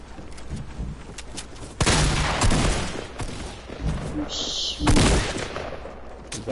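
Gunfire in Fortnite, bursts of loud shots with heavy booms around the middle and again near the end over a busy background, muffled chatter faintly underneath.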